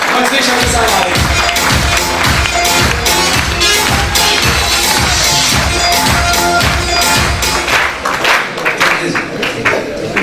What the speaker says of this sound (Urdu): آپ کی تالیاں بجے گی